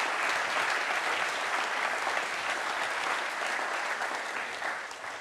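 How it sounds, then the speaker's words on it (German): Studio audience applause at a German football talk show, a dense steady wash of many hands clapping close and loud for the whole stretch, easing slightly at the end, with no talk over it. "Danke, Applaus für euch."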